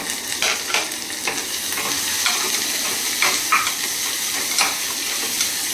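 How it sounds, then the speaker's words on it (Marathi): Tomatoes dropped into a pan of reddish-brown frying onions on low heat, with a steady sizzle under repeated scraping stirs of a spoon, close and moderately loud, no talking. "आता टोमॅटो टाकतोय, बऱ्यापैकी लालसर झाला कांदो"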